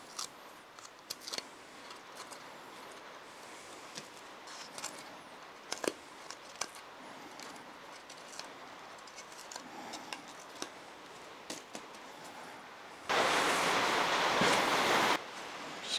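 A razor blade scraping an old gasket off a Yamaha Warrior 350 engine, heard as many short, sharp scrapes spread irregularly over a steady background hiss, then a loud burst of broadband rushing noise near the end.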